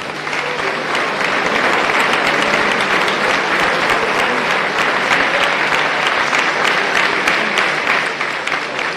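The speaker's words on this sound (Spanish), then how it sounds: "Un aplauso." A hall audience at a progressive political gathering on Argentina's 35 years of democracy applauds warmly for guests being introduced, with sustained, dense clapping at high volume for the full stretch.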